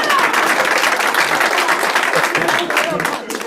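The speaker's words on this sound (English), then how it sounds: "Applause for that" A theater audience at a playwright's reading bursts into loud, dense applause that stays full and continuous throughout, then thins slightly near the end, with some voices mixed into the clapping.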